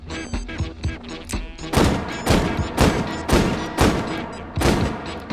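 A reciprocating revolver fires in the VR shooting game H3VR, with about nine sharp, loud shots in a quick, fairly even rhythm and a short mechanical clatter between them.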